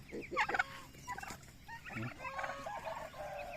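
A turkey gobbles in repeated rapid warbling bursts, fairly close, with a few short clucks between calls against quiet outdoor background.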